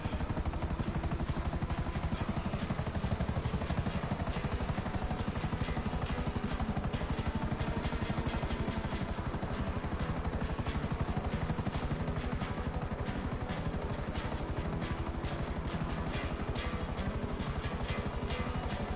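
A helicopter in GTA Online roars continuously and loudly with a dense rotor chop and engine whine, steady throughout with no pauses.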